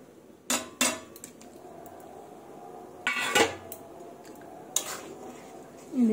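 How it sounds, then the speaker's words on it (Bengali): Fried stinging catfish and walking catfish are slid into a simmering chili curry in a pan. A few sharp, close clanks of metal against the pan stand out over a low, steady bubbling, with no talking. "মাছগুলো ছেড়ে দিলাম"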